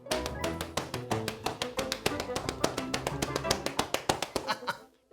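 Children patting their legs in a fast, steady rhythm to imitate rain during a church children's ministry lesson, a close, busy patter of many slaps that fades out at the end.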